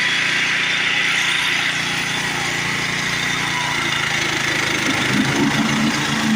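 A vintage 1972 Simplicity 637 Yeoman riding mower engine running steadily, a loud continuous drone with a rough mechanical rattle and no pauses.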